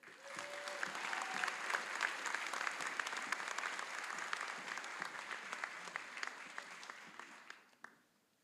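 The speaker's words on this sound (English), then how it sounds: "Please join me in a round of applause to congratulate all of our graduates." Sustained applause from a graduation convocation crowd, steady dense clapping for about seven seconds before tapering off at the end.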